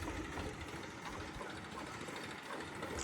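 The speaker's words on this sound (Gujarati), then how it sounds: "આ પેલું ગબાભાઈનું ટ્રેક્ટર." A 72-50 HP tractor engine runs steadily on a farm, a dense, continuous mechanical rumble and clatter heard from nearby with no change in pace and no voices.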